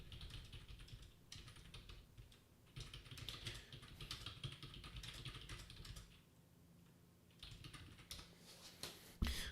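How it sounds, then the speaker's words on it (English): Someone types a chat message on a computer keyboard, producing soft, steady clusters of key clicks in bursts with short pauses, close and faint under a low background hum. "Typing a message into the YouTube chat so that what I did makes a little more sense."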